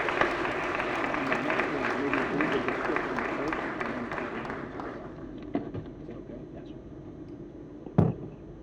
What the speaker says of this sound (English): Another big round of applause, please